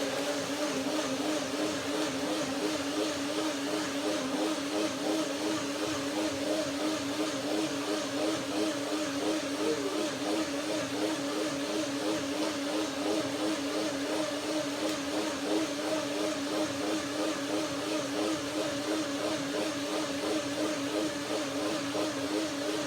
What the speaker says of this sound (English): first blending, blender dance